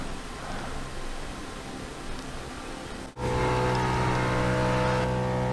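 Race car engine lapping in Forza Motorsport 6 at Daytona with a race cam fitted, a steady droning motor that cuts out briefly and returns louder with a strong sustained hum.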